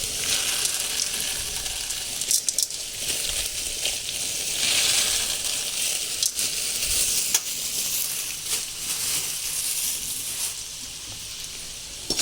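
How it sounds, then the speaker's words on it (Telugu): Putnalu (roasted gram) frying in hot oil, a steady, close hissing sizzle with scattered crackles and light stirring scrapes throughout. "ఆయిల్ వేడెక్కింది, సో పుట్నాలు వేసుకుందాం."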